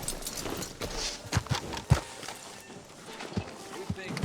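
Horse hooves clip-clop in a town street in Red Dead Redemption 2, a few uneven thuds at walking pace under ambient game background, fairly close and moderately quiet.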